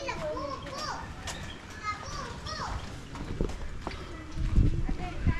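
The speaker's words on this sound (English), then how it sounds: "Look at the kids playing with the kittens." Children play and chatter with kittens aboard a boat, their high voices rising and falling in a lively background while a few heavier thumps and steps land near the end.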